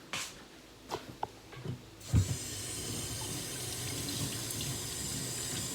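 Fresh basil leaves are rinsed under a running kitchen tap after a few soft handling knocks; the water rushes on and stays steady and close until the end.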